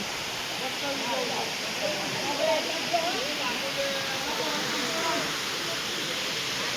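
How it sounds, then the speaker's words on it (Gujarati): A steady, full roar of a waterfall at Pavagadh on the Vishwamitri river pours on without a break, with several voices talking over it nearby. "અહીંયા સુંદર મજાનો ધોધ પડી રહ્યો છે."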